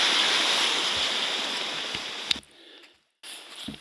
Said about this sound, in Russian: Шикарный ручей.